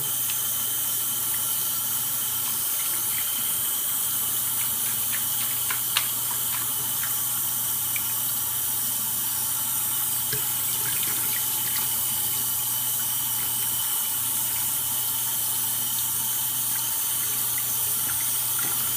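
Steady running tap water pours continuously while a dirty kitten is bathed under the stream, a constant even hiss with no talk.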